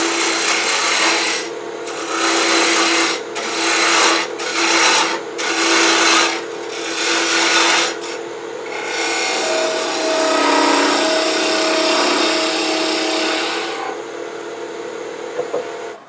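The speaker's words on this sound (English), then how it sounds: "I can probably do that a little bit faster with this spindle roughing gouge, which moves really quickly." A spindle roughing gouge peels cherry wood spinning on a lathe, giving a loud, steady rasping scrape broken into bursts by short pauses, then a longer continuous cut.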